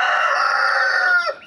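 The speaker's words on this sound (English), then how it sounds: "excuse the rooster in the background" A rooster crows once, loud and close, a sustained harsh call trailing off at the end, with no talk over it.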